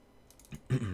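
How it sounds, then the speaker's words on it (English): A few keystrokes on a Corsair Vengeance K70 mechanical keyboard, faint light clicks followed by a louder, closer clack near the end. "clickety clacking from the Corsair Vengeance K70"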